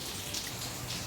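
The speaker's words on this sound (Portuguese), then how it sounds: "E a chuvinha tá assim, ó. Não para de chover." Steady rain falls outside, a continuous soft patter of drops on surfaces that fills the short stretch evenly at moderate loudness, with no voices.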